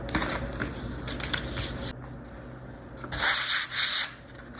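Sandpaper wrapped on a flat block rubbing across the wooden body of a DIY Firebird-style guitar, several scratchy back-and-forth strokes, close and dry, with two louder rasping passes near the end.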